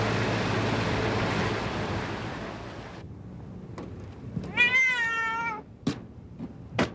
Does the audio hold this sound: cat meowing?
yes